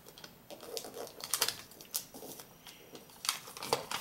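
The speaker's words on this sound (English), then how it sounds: "you're gonna turn it and flip and fold it in half again." Soft crinkles and crisp creasing of a sheet of paper being folded in half for an origami fish, close and fairly quiet, in a steady run of small rustles.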